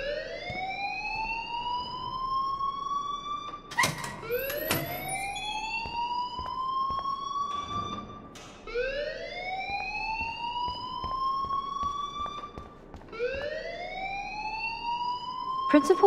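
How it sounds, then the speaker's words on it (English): A school alarm in Life Is Strange wails continuously and loudly in repeated rising sweeps, each climbing tone lasting several seconds before restarting, with clicks and background noise mixed in. "please turn off that alarm"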